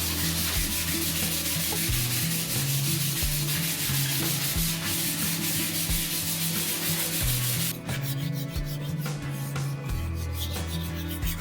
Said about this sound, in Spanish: ahora vamos a empezar a lijar este.